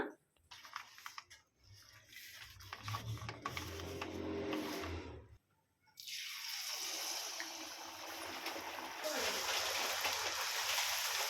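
Nippat discs dropped into about three-quarters of a litre of hot oil on high heat, a loud continuous sizzling hiss that swells and stays steady after a brief pause, with stirring noises and talk earlier on.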